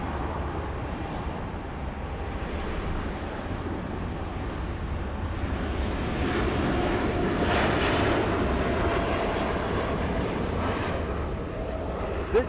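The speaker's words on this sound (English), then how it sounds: "The Dreamliner out of here, doing a D-rated takeoff." A Boeing 787 Dreamliner takes off at Los Angeles airport with a derated thrust setting, its engines a loud, steady roar heard from a distance that swells slightly midway and holds, with no voices.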